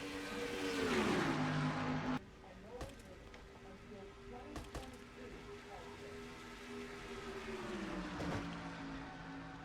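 Stock car engines drone and rev as the field takes the green flag in a racing video game, a steady pack roar with a sharp drop in pitch early on and other cars passing, heard under a commentator's voice.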